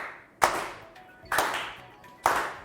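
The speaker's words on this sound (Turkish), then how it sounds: "Üzgün alkıştan kaçamadık." Three short bursts of applause-like sound effect, each a sharp loud onset fading out, spaced about a second apart, with no voices.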